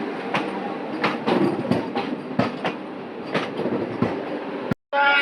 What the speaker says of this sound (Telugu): వందే భారత్ ట్రైన్ కదా